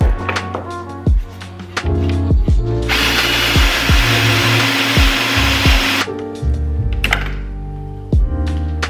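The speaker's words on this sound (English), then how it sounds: "once you lock it in place and start to drill" A power drill whirs loudly for about three seconds up close, drilling a kitchen cabinet door, with music playing throughout before and after.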